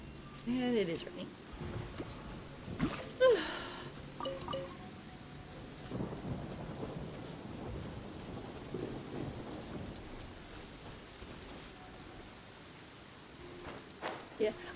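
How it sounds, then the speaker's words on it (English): Video game rain falls steadily while rolling thunder cracks and booms several times early on, with a voice talking over the storm. "And it is raining."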